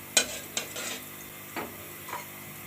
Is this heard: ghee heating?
yes